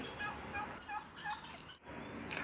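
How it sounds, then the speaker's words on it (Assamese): Turkeys gobble on a farm that also keeps guineafowl, a run of rapid warbling calls repeating over a couple of seconds with a short pause, moderately close against a faint outdoor background. "এইবিলাক আমাৰ ফাৰ্মৰ টাৰ্কি আৰু গিনিফল"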